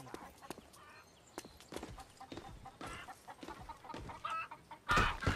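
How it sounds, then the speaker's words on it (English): A chicken clucks in The Saboteur video game, with irregular close clucks and scratchy clip-clop sounds over a faint background, ending in a louder flurry. "let me see if I can kick this chicken"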